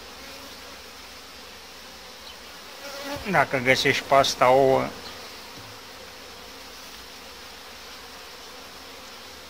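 Honey bees buzz near an open hive during a beekeeper's colony inspection, with a short burst of close, loud buzzing lasting about two seconds over quiet background; a voice speaks briefly.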